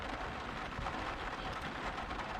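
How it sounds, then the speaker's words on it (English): Heavy rain pounding on the roof of a parked van, a dense, constant hiss and patter that stays loud and even throughout, without any voices. "The noise of the rain amplified."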